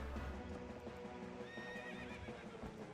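A horse in a video game neighs and its hooves clip-clop in a quick rhythm, the whinny rising over the steady hoofbeats, fairly faint with no talk over it.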